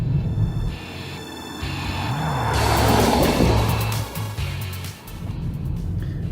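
BMW X4 with xDrive, in automatic sport mode, accelerating hard: the engine note climbs steadily and loudly, peaks mid-run, then drops briefly at a gear change before pulling again, with no talking.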